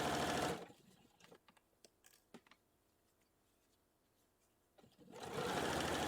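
Sewing machine stitching the seam of doll capri pants, a loud whirring run at the start and again at the end, with quiet clicks and fabric handling in between.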